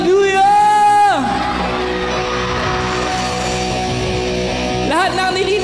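A youth crowd at a church youth jam shouts hallelujah and cheers, a loud sustained mass of whoops and yells after a rising shout, with voices surging again near the end.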